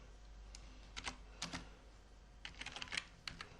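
Quiet, close typing on a computer keyboard while entering database table field names, with irregular clusters of light key clicks separated by short pauses.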